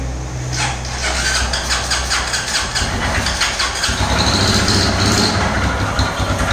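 A damaged motorcycle engine with a broken connecting rod and piston runs nearby, a steady loud mechanical drone with a rattling, squealing whine over the low idle throughout.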